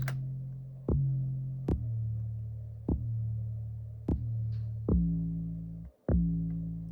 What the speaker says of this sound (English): a bass loop basically, but it will sound like this